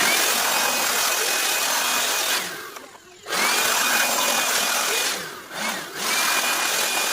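An air blower blasts dust out of an old electric fan, a loud continuous rushing hiss that cuts out briefly twice and restarts, with no voices over it.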